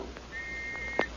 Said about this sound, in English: keeping in touch by blowing their whistles